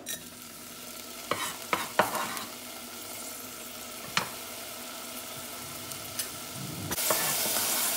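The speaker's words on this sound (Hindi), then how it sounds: "आतां हें पॅन गरम जाला, हांव आतां तेल घालता आनी आतां पियाव घाल" Onion frying in oil in a hot pan for a Goan clam curry, with scattered spoon clatters and stirring, then a louder hissing sizzle swelling near the end, close by and without speech.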